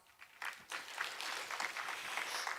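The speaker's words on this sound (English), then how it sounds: "please give her a big round of applause" Audience applause welcoming the Vice President of the International Association of Universities at a summit opening ceremony in Daegu, with broad sustained clapping that rises quickly and holds steady across the hall.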